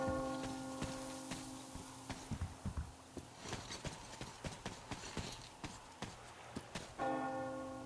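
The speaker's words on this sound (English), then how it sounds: "Do you hear that bell?" Bell ringing inside the video game Metro Exodus, a series of sharp struck tones repeating in an irregular rhythm over a sustained droning chord, fairly close and prominent, with no talking.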